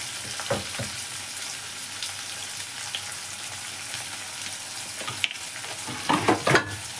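Onions, capsicum and tomato frying in a pan of hot desi ghee, a steady hiss with stirring scrapes near the start and a burst of louder clatter and sizzle toward the end, no voices.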